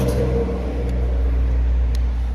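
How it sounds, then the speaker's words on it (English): Road traffic passing near a Catalina 25 sailboat under restoration: a constant loud, low rumble of vehicles that never lets up, with faint clicks on top and no talking. "sorry about the traffic"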